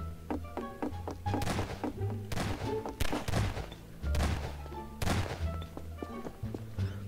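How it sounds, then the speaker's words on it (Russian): Gunfire in the video game Garry's Mod, a school map in a co-op horror mode: repeated sharp shots and thumps in irregular bursts, moderately close, with no speech over them. "О, я слышу, кто-то стреляет."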